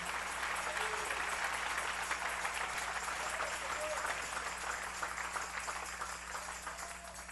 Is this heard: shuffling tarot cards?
no